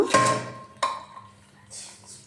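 Boiled potatoes come out of a pressure-cooker pot as the water is drained: two sharp metallic clanks of utensil against pot, close and distinct, then soft scraping and a faint hiss in a quiet kitchen.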